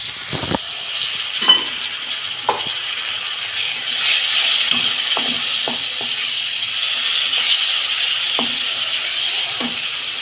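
Water is poured into a hot frying pan while soybean chilli cooks, raising a loud, broad sizzling hiss that swells midway and holds, with occasional spoon taps against the pan.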